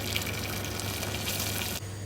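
A steady rush of hot water pouring into a pan over a small onion and duck giblets, continuous and fairly close, then cutting off abruptly near the end.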